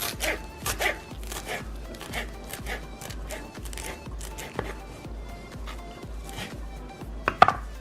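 A knife chops fresh cilantro into small pieces on a cutting board for guacamole. The close, rhythmic chops repeat quickly in short runs with soft kitchen background.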